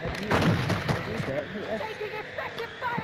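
Gunfire in Call of Duty: Modern Warfare II multiplayer, a steady wash of rapid shots and distant battle noise running throughout, with players talking over it on voice chat.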